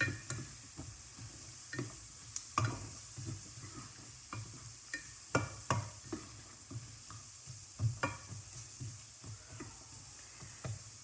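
Seasoning being stirred into food in a pan while cooking Thanksgiving dinner, soft scraping strokes repeating irregularly over a faint sizzle, close and quiet with no voices.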